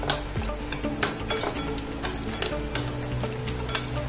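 Chaat masala, roasted cumin powder, salt and green chutney being mixed in a bowl, with a spoon ticking and clinking against the side several times at a quick, uneven pace, close up and without talk.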